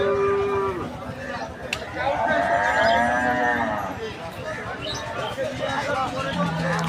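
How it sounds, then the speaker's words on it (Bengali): Large imported meat buffalo at the Rajshahi city livestock market give long, drawn-out lows, one deep and sustained, amid crowd babble and nearby talking. "এখানে আমরা যে মহিষগুলো দেখছি বড় বড় সাইজের, যেগুলো মাংস উপযুক্ত মহিষ।"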